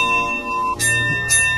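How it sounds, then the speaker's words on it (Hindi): A small bell rings briefly in two bursts in a street at 3 a.m., over a steady background hum and a held tone. "3 बजे के पहर गली में घंटी बजने की आवाज आती है।"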